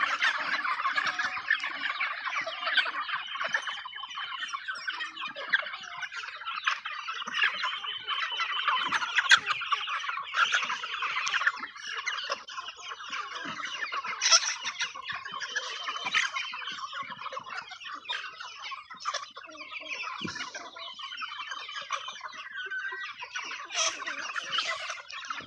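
A Brahma chicken flock being fed on a rainy day, with dense overlapping clucks and gobble-like calls close by, continuous and busy, over a soft wash of rain.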